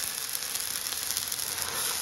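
Water poured onto a hot, lightly oiled iron griddle for a Konkani breakfast sets off a steady, loud hiss that stays even and unbroken throughout, with no voices.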